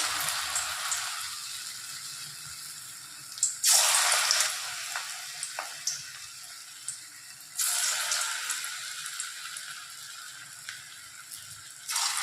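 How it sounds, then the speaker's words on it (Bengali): Small potato pakoras dropped into hot oil, two bursts of loud crackling sizzle that settle into a quieter steady bubbling, with occasional clinks of a utensil, close and without talk. "এবার আমি আলুর পকোড়াগুলো ভেজে নেব।"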